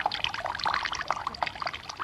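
Water pours from a jug through a rolled-up newspaper funnel into a man's ear as a radio comedy sound effect, a short gurgling, trickling splash heard up close with no talk over it.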